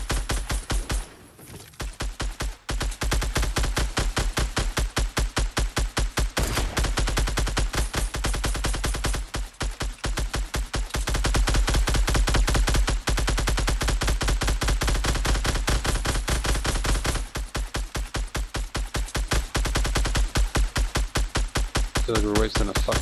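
Rapid sustained automatic gunfire from a first-person multiplayer shooter match, dense bursts of machine-gun shots running almost continuously at close, loud level with a few brief gaps.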